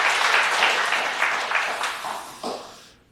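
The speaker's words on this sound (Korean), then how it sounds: "우리 박수 한번 부탁드리겠습니다." A church congregation at a Korean Sunday worship service claps together in a dense burst of applause that slowly thins and fades out after about three seconds.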